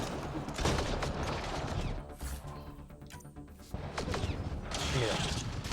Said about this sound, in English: Automatic shotgun! Kill everything!